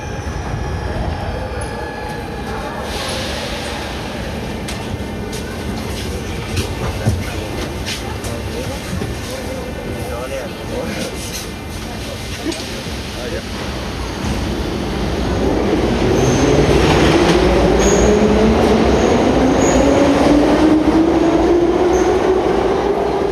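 A Tashkent metro train rumbles steadily, then grows louder as it arrives, with wheels squealing toward the end of the passage.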